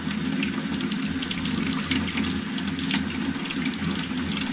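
A well water pump runs with a constant low hum beneath steady gushing, splashing water, close and loud throughout with no pauses.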